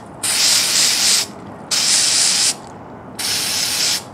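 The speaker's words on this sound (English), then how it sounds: "we're gonna spray these shoes and we're gonna see how it turns out" Three separate bursts of an aerosol spray can, each about a second long, hiss loudly and close by as shoes are spray painted, with short quiet gaps between them.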